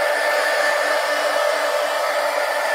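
Hair dryer running steadily and close by to dry white paint on an art journal page, a constant loud whoosh with a whine and no talking.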